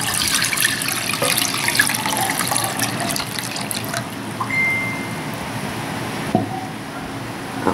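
Water pours into a pot while Nutella panna cotta is being made. A loud splashing gush fades into a lighter trickle, followed by a few faint knocks and clinks.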